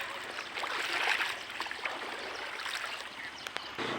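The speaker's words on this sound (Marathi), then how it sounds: "लय डेंजर वाहतंय पाणी." Strong water rushing over a village weir, a steady broadband roar with a faint gurgle that holds close and even throughout.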